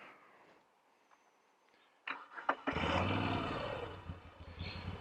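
A Moto Guzzi V7 Stone motorcycle cranks over with a few sharp starter bursts, then catches and settles into a loud, throbbing idle close by after a quiet lead-in.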